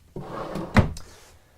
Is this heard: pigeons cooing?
no